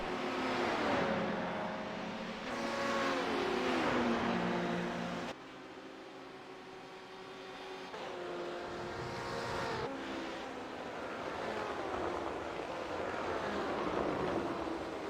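GT race cars circulating on track at Watkins Glen in a racing game, engines droning loud and near with rising and falling revs as they pass, one car fading and the next taking over, continuous throughout.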